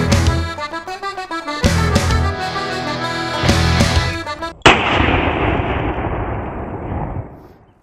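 A 12 gauge shotgun fires Dragon's Breath incendiary rounds in a turkey-cooking setting, with loud booming blasts. A long roaring, crackling burst trails away to quiet over several seconds.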